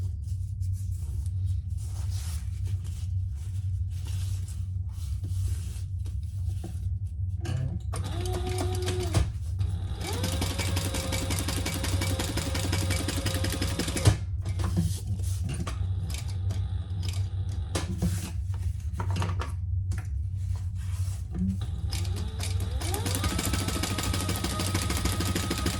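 A sewing machine top stitches a pressed-open seam on a messenger bag, its motor whirring in steady bursts with short pauses between runs, close and fairly loud throughout.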